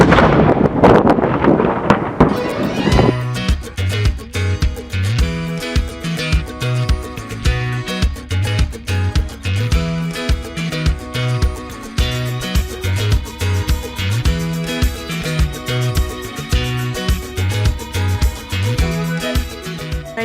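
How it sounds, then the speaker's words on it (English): A cannon fired with one pound of black powder at a coastal site in Canada, a loud blast at the start followed by a long ringing, rumbling decay with repeated pulsing echoes. "today we only fire 1 pound of black powder"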